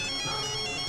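A mobile phone ringtone plays a steady, bright electronic tone, close and fairly loud, on its own without voices.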